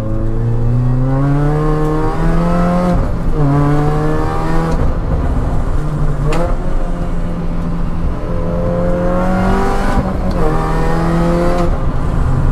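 A Mini Cooper S R53 engine revs repeatedly while driving, its pitch climbing and falling through gear changes in steady rising sweeps, loud and close with no talking.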